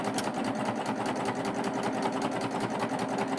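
A chain stitch sewing machine runs steadily through fabric, its fast rhythmic needle clatter and motor whir continuing evenly at close range without pause.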